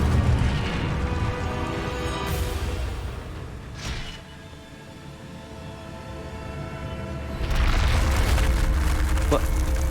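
A fire spell cast in Hogwarts Legacy, heard as a sustained roaring, rumbling blast that fades in the middle and swells again loudly toward the end, with no talking over it.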